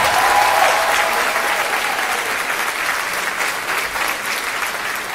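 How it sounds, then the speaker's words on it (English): Sustained applause from an audience after a high school concert band performance, dense steady clapping that fades slightly toward the end. "One more round of applause for Mr. Schultz and the Milton High School C"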